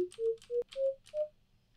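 Computer keyboard keys pressed one after another to trigger synth notes in the LMN-3 emulator, giving five short clicks, each followed by a brief clean tone that steps up in pitch, quiet and close.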